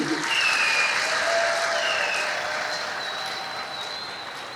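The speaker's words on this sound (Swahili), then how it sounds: "Tujipigie makofi kwa wote tunaosema ndio" A steady wash of applause fills the room as Yanga SC club members clap together at a meeting, loud and sustained before slowly fading.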